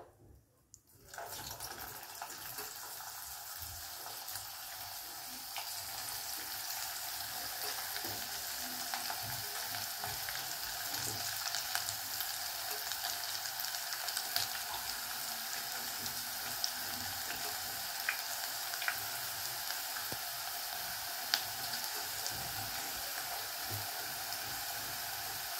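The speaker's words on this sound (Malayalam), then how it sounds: "ഒരു മീഡിയം ഫ്ലെയിമിൽ വെച്ചിട്ട് നല്ല ഗോൾഡൻ ബ്രൗൺ കളർ ആവുന്നിടം വരെ ഡീപ്പ് ഫ്രൈ ചെയ്തെടുക്കാം" Onion pakoda deep frying in hot oil over a medium flame, a steady, close, loud bubbling sizzle that runs throughout after a brief quiet start, with occasional faint clinks and stirring noises.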